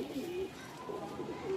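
A short burst of soft cooing comes from Punjabi Malwai pigeons in a breeding setup, two brief low phrases close by, with faint speech mixed in.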